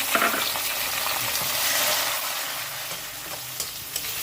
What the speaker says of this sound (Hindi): अब हम इसमें ये टमाटर डाल देंगे जो 2 बड़े जो हमने काट के रखे हुए थे।